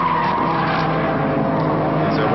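Holden Commodore race cars, including a Commodore Turbo, circling the Winton circuit in the 1987 Winton 300, engines droning steadily with a tire-scrub edge throughout, close and continuous, and no talk over them.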